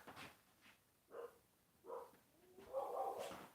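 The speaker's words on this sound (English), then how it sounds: "My dogs keep barking." Several short barks from dogs at a distance, a few spaced yelps followed by a longer burst, fairly faint against a quiet background.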